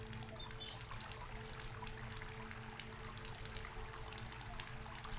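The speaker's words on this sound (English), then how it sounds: "The flow of the water was slightly dislodging the wind-up key." Water flows through a pipe in the video game Asylum, a steady, continuous pouring and trickling stream that stays faint and even throughout, with no talking.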